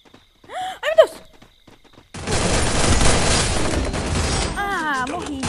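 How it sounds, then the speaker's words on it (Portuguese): Gunfire in the video game Free Fire erupts as a sustained, dense barrage after a quiet opening with gasping voices, and people talk and exclaim over the shooting. "não dá pra saber quem tá atirando"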